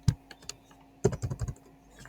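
Keystrokes on a computer keyboard while HTML code is entered, close and fairly soft, in two quick bursts of several taps separated by a brief pause.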